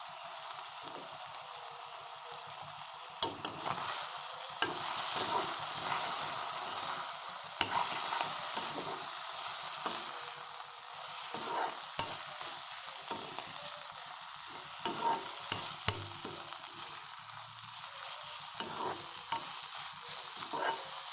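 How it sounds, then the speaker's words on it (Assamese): Onion, capsicum and green chillies fry in a pan, a steady bright sizzle with repeated scraping stir strokes throughout, close and continuous, no talk. "এতিয়া ইয়াত বাকী থকা অলপ আৰু কেঁচা পিঁয়াজ দিম। কেপচিকাম আৰু জলকীয়া ফালি থোৱা জলকীয়াখিনিও দি দিছোঁ।"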